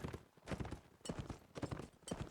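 Horses gallop in a Mount and Blade Warband: Napoleonic Wars multiplayer line battle, with quick clusters of hoofbeats repeating in a steady rhythm and a faint whinny, all at moderate distance.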